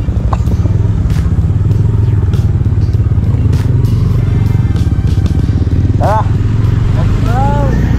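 A motorcycle carries a passenger riding on the back seat, its loud, steady engine droning close up throughout along with wind and road rumble, and brief horn-like chirps near the end.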